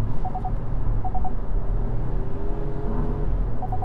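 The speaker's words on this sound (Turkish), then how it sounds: "Gazı kökledim sport modda. 4000 devir." Three-cylinder engine of a 2020 Hyundai i20 revving to about 4000 rpm in sport mode while climbing uphill, a steady droning rumble inside the cabin with short repeated beeping chimes, no talk.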